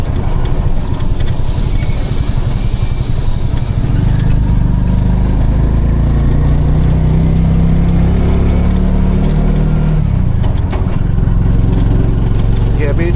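Piaggio Ape City three-wheeler engine running in petrol mode, a loud, close, steady mid-pitched drone with a shift in tone partway through, continuous throughout.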